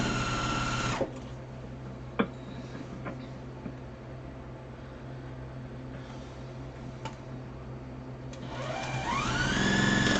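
A sewing machine stitches a piece for a Farmer's Wife quilt, running as a steady mechanical whir for most of the stretch, with a few clicks and a louder rising hum near the end.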